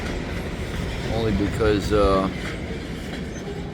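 A freight train hauled by a lone GP38 locomotive rolls past with a steady rumble and rising metallic squeal from the wheels in the middle, while a person talks briefly nearby.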